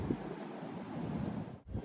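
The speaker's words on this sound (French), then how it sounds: "Ah, le vent qui souffle là, c'est super." Steady wind gusts roar against the microphone on the subtropical Black Sea coast at Sochi, a continuous breathy rush with a brief dropout near the end.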